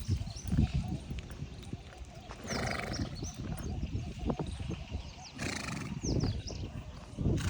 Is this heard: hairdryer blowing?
no